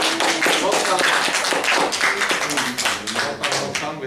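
A church congregation gives a welcoming round of applause for a first-time visitor, with dense, lively clapping from many hands continuing throughout at close range, and a voice faintly audible beneath it.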